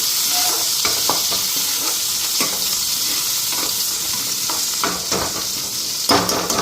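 Steady, loud sizzling of onions and green chilies frying in hot oil, with occasional scraping stirs and clinks over the continuous hiss.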